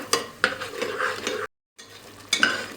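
Spice masala roasting in a pan for aloo gobi, with scraping stirs of a spoon against the metal and a soft sizzle underneath, close and moderately quiet, broken by a brief silent gap.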